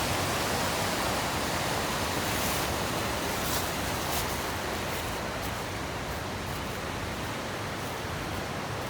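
Twenty Mile Creek rushes through the Smoky Mountains, a loud, broad, unbroken roar of flowing water that holds steady and close for the whole stretch.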